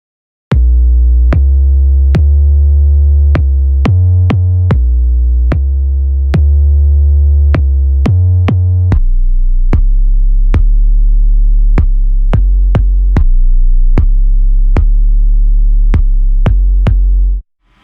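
Synthesized kick drum programmed in the Metrum plugin, its pitch sweeping down on each hit: a steady, punchy pattern of loud, booming thumps, some doubled, that runs about seventeen seconds with no talking.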